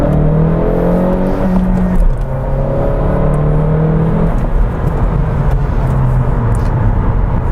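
A manual Honda Civic 1.5T with a +9 psi tune pulls hard through the gears, the engine note climbing in steps with each shift, loud and close from inside the cabin.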